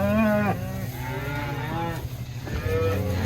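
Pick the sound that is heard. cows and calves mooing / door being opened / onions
cows and calves mooing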